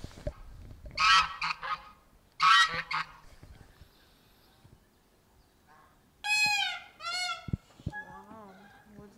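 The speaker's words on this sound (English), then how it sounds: "I think that this is the funniest bird in the world." A comical bird honks in bursts at an outdoor spot in Pereyaslav, Ukraine, with loud nasal goose-like calls, a pause, then rising squeaky honks near the end.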